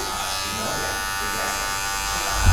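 Electric hair clipper buzzing steadily while cutting hair during a low taper fade, a close, continuous hum with a slight swell at the end.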